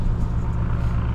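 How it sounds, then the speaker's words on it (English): A Ford Mustang race car engine rumbles steadily at close range, a dense low-pitched drone with no talk over it. "Car's still alive."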